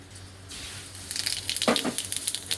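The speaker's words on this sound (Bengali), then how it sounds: "প্রথমে আমি একটু জিরে আর লঙ্কা এখানে ভেজে নেব" Cumin and dried red chillies dropped into hot oil, a burst of crackling sizzle that starts up after a quiet moment and keeps popping up close.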